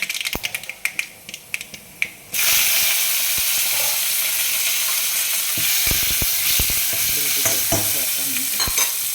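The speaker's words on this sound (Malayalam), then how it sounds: "നമ്മുടെ ഊണിന് ഒന്ന് കറി പൊട്ടിക്കണം." Curry tempering in hot coconut oil: a few sharp crackles and pops at first, then a sudden loud, steady sizzle that hisses on with scattered clicks and spatters, close up and without speech.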